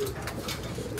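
Pigeons coo in a loft with a new corrugated metal roof: soft, repeated cooing under a steady, dense background hum, with no speech heard.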